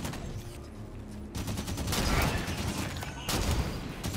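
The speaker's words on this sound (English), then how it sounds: "Turrets on and firing." Auto turrets in the video game Halo 5 open fire in a dense, continuous burst of rapid gunshots that lasts the whole stretch, loud and close against the game's ambience.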